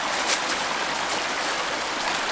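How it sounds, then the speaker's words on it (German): Broadband rushing water from a small mountain stream and waterfall, steady and fairly close, continuous with no talk. "So ähnlich wie im Eiskogel, nur etwas kleiner, gibt es hier auch einen Wasserfall"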